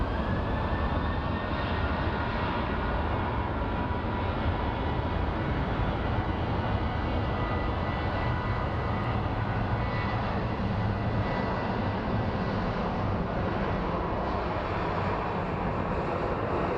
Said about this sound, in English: we have an A321 that's coming in for landing